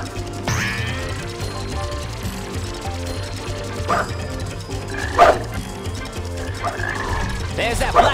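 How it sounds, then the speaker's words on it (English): Croaking from a black frog enemy in the Sonic Heroes Lost Jungle stage, a few short croaks over game music and sound effects, with character voice shouts between them. "There's that black frog again!"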